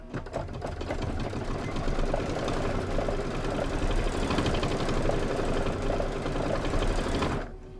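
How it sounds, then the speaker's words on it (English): A sewing machine hums steadily while satin stitching on an appliqué project, one continuous, close, rapid mechanical buzz lasting several seconds before stopping abruptly. "we're just gonna do some satin stitching"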